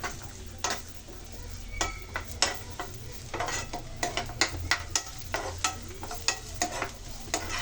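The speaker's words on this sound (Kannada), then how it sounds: "ಕೋಕೋನಟ್ ಆಯಿಲ್ ಹಾಕಿ ಚೆನ್ನಾಗಿ ಫ್ರೈ ಮಾಡ್ಕೋಬೇಕು" Coconut oil fries in a pan while cooking egg biryani. A steady sizzle runs underneath, and frequent quick clinks and scrapes of a spoon against the pan rise above it at close range.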